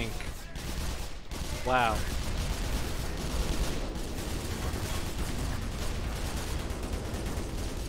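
Dense, sustained gunfire from a tank cutting down grunt soldiers in the game Black Mesa, loud and continuous, with a brief exclamation from a voice near the start.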